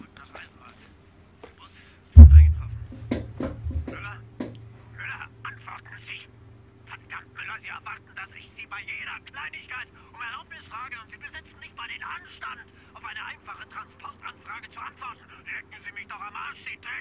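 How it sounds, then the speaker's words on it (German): Telephone ringing in the Wolfenstein video game, a steady repeating electronic ring with a low hum underneath, heard under someone talking in German. "Jetzt läutet hier das Telefon."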